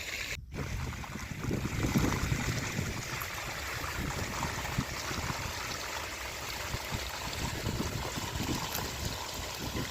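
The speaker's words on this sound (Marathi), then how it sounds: "जो पाण्याचा जो आवाज आहे तो कोणत्याही संगीतापेक्षा मधुर असा आहे" Water runs steadily into a lined farm pond built to store irrigation water for an orchard, a continuous broadband rush and trickle that holds at an even level throughout, with no talking.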